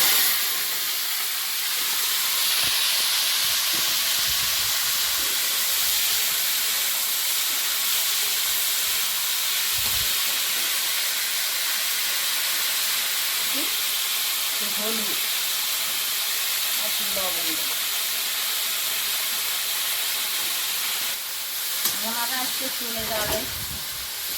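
Yardlong beans with raw cumin fry in hot oil in a home kitchen, a steady soft sizzle and hiss running throughout, with a few faint clinks and brief bits of talk.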